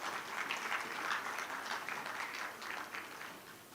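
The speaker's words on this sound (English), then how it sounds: "We need more claps." Audience clapping during a shield presentation at an Islamic economics and finance conference, a soft, steady patter of applause from a crowd that fades slightly toward the end.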